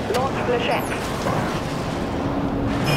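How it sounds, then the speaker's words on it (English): Flechette missiles firing in the video game Dreadnought, a dense, continuous roar of launches and blasts filling the whole stretch, loud and near, with chatter mixed in. "Fire flechette missiles"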